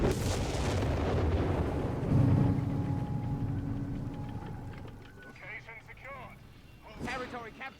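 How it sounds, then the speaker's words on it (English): Howitzer artillery fire in the video game Company of Heroes 3: a heavy opening boom and rumbling impact, then fading battle noise while a commentator talks over it. "direct hit from the howitzers on the Panzer Thieves"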